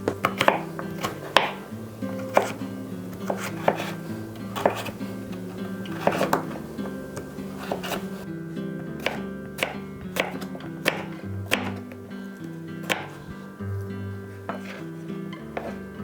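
A knife chops leafy vegetable leaves on a board for an autumn soup, landing in a steady run of close, crisp taps with a faint low hum beneath.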